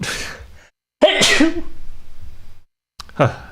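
A single sharp sneeze bursts out near the start, followed by someone talking closely into the microphone, with a brief pause and more speech after.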